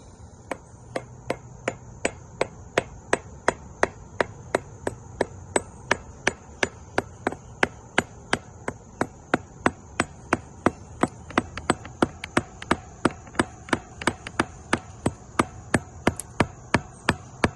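Sharp, evenly spaced taps strike chimney brick to check for hollowness, again and again in a steady rhythm, dozens of crisp knocks over a faint background hum.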